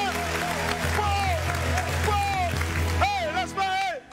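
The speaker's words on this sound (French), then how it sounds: "pour moi, faites des acclamations" Audience cheering and applause during a live improvised performance on a television show, with crowd noise and clapping sitting beneath musical tones and voices, swelling and dipping before a brief drop near the end.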